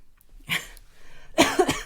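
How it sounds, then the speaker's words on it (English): Two coughs, close and fairly loud: one around the half-second mark, then a harsher burst of coughing near the end, with quiet in between. "Sorry for the coughing"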